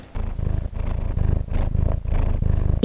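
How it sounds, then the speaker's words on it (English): A cat purrs close up with a loud, continuous rumbling in steady in-and-out pulses, heard alone. "Kitty cat is ready for work."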